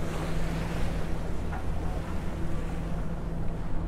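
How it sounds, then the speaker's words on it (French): Sea waves breaking in the English Channel at high tide in about 13 knots of wind, a continuous rushing wash of surf with wind noise and a low hum from the boat underneath. "donc on voit là-bas hein, que ça déferle sec"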